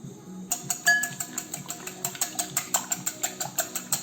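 Wire whisk beating two eggs for an omelette in a bowl, a quick steady run of light clinking taps against the bowl's side, close and clear with no talking.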